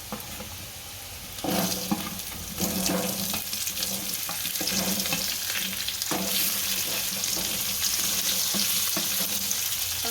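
Stuffed gunda (cordia fruit) dropped into hot oil with asafoetida and curry leaves, the sizzle surging loudly after a quieter start and then holding as a dense, crackling hiss with scattered utensil knocks.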